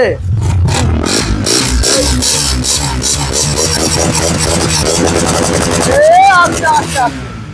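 A motorcycle engine revs loudly and unevenly close by, with rapid throttle bursts and clattering amid a noisy crowd with voices.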